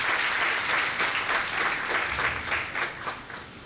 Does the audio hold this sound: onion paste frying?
no